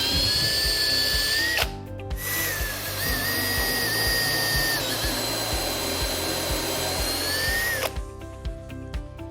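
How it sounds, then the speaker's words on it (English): A power drill whines steadily as it bores into the edge grain of wood for dowel joints, with brief pauses and a grinding, chattering undertone near the end. "since I'm drilling into edge grain instead of end grain, hopefully the drilling will go a little bit easier"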